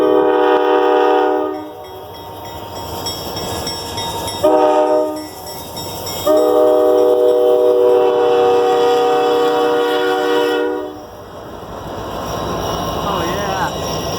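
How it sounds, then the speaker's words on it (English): A loaded RS GW1 salt train heads southbound past the Ballantyne Road crossing, its horn sounding in long harmonic blasts broken by short gaps, loud and close over a steady rumble of rolling wagons. "It's been like a long time since I've seen this train, the GW1."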